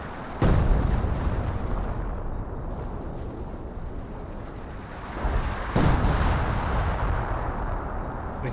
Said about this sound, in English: artillery barrages onto that trench